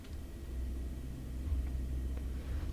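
In the On The Road Truck Simulator game, a MAN truck engine gives a steady, low, droning rumble with no talk over it.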